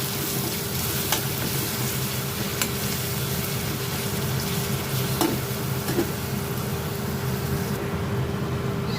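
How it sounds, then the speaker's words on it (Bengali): Spice paste frying in a pan for jhal patisapta, with a steady close sizzle and faint stirring scrapes running throughout, no talk. "এবার একটু ভাজা ভাজা করব।"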